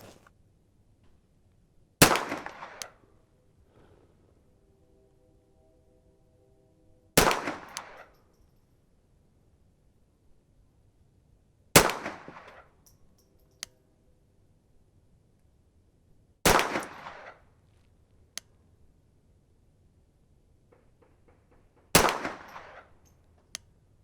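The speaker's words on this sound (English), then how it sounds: "we're going to go ahead and shoot the Federal Premium High Velocity Match Gold Medal" A Brownells 10/22 Takedown rifle firing Federal Gold Medal match ammunition at a range: five sharp, loud single shots spaced several seconds apart, each with a short ringing tail, and quiet in between.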